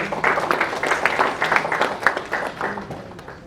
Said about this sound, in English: A big round of applause for the valuable jury committees, please.